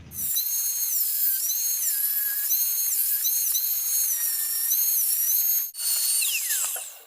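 A rotary tool cuts a 2 mm milky acrylic sheet for a custom motorcycle stoplamp, giving a loud, steady high-pitched whine with slight pitch shifts, one brief break near the end, then winding down.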